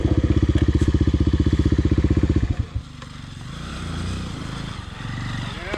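An XR dirt bike engine on a trail thumps at a rapid, even idle for a couple of seconds, then drops into a lower, rougher rumble that stays loud and close.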